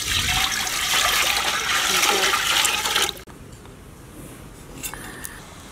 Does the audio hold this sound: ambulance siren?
no